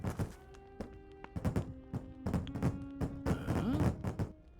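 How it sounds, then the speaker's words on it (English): Muffled pops and thuds from inside a stove in the point-and-click game The Book of Unwritten Tales, a scattered series of close knocks and bangs over a steady tonal hum, with no talking. "Sounds like explosions in the stove"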